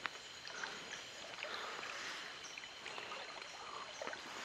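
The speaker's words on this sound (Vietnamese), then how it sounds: "nước tới qua đầu gối luôn. Lội như thế này là hơi sâu rồi đấy." Someone wades through knee-deep water in a forest stream at night in the Dong Nai Culture and Nature Reserve. Steady splashing and swishing continues throughout, with no talk.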